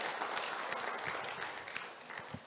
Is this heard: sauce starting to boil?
no